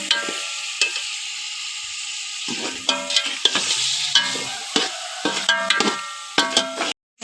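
Chicken and garlic fry in a pot for chicken pulao: a constant sizzle broken by frequent metallic clanks and scrapes of a ladle stirring, close and clear.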